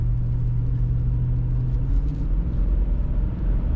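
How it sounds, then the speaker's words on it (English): Steady low engine rumble from a 1996 Cadillac Fleetwood Brougham V8 under throttle, a droning tone rising slightly partway through as the big sedan accelerates, heard from inside the cabin with no talking. "Putting that throttle down, yes, there's definitely enough power to move this car"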